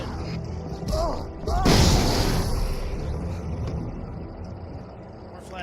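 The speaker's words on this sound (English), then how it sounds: "More flashbangs." Flashbang grenades detonating in the video game Alan Wake: a loud, broad blast bursts out partway through, with a couple of smaller pops before it and a lingering roar of noise afterward.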